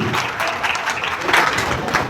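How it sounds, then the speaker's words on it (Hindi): An audience at a motivational seminar breaks into lively applause, many hands clapping in a dense, continuous patter with a few louder bursts, close and filling the room without talk on top. "एक जोरदार ताली मिलेगी। चारों तरफ ताली ताली।"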